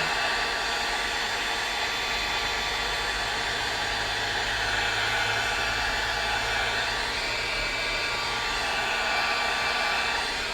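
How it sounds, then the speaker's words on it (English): A heat gun blows hot air in a steady, loud broadband rush at a stencil plate, with no one speaking. "this is a heat gun, but I'm keeping my distance"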